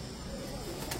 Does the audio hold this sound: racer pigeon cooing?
yes